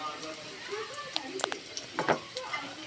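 Onion frying with ginger and garlic in a pan gives a soft, uneven sizzle broken by light scrapes and stirring clicks, heard close under a voice talking.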